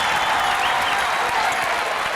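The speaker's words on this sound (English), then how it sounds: "more people stand up and cheer" A crowd at a women's college basketball game between South Dakota State and South Dakota applauds and cheers in a dense, sustained roar of clapping and voices that fills the arena without letup.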